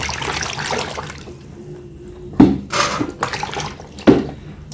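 Ginger and garlic being washed under a kitchen tap, running water that splashes in a few louder bursts against a quieter trickle and rinsing, close by, with no talk.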